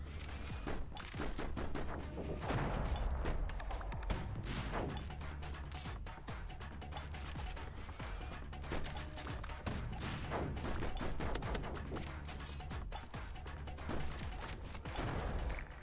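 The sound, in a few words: gunfire from a video game demo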